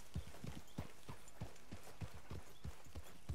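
Horse hooves clip-clop at a steady walking rhythm in the video game Red Dead Redemption 2, quiet, distinct, evenly spaced hoofbeats with no talking.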